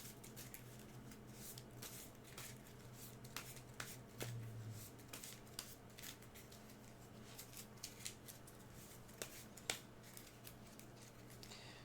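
Soft, quick riffling and flicking of playing cards being shuffled, quiet and close, with brief crisp bursts over a low steady hum.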